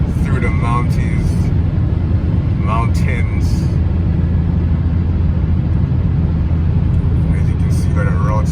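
A Mercedes-AMG car drives along twisting mountain roads, its engine a steady, loud low rumble the whole way through, with brief voices breaking in now and then.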